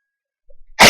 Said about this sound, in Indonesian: Bersin